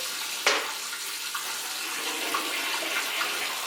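Water runs steadily from a tap in an ensuite bathroom while waiting for the hot supply, a constant splashing hiss with a sharp knock near the start and no speech.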